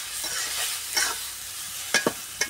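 Ground turmeric, chili and coriander spices frying in oil in a pan for a tilapia and ridge gourd dish, a soft continuous sizzle broken by a few sharp scraping strokes of a spatula near the end.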